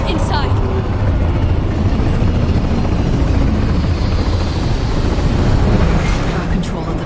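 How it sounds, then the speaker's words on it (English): US combat helicopters flying in over a city in Cyberpunk 2077, a loud continuous rotor chop and engine roar throughout, with speech over it. "Then U.S. combat choppers buzz in the free city of NC."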